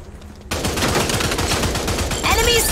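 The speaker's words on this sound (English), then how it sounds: "they shot my healing machine" Video game gunfire in Rogue Company ranked play bursts in at half a second as rapid automatic shots, loud and continuous, with game sound effects layered over the fire.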